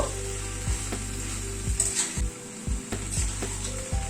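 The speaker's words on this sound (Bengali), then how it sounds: "ক্যাপসিকামটা দিয়ে আবার একটুখানি কষিয়ে নেব।" Chicken, dal and capsicum stir-fried in a pan sizzle steadily up close, with a spatula scraping and knocking against the pan in irregular strokes.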